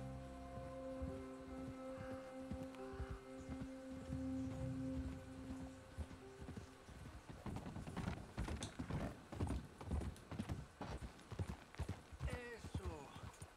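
Horse hooves clip-clopping in the video game Red Dead Redemption 2, a rapid run of close, loud hoofbeats after a stretch of game music and voices, with talk over it.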